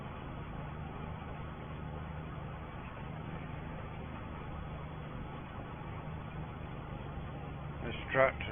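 A tractor engine runs steadily while rolling wheat, a continuous low rumbling drone with a brief louder bump near the end.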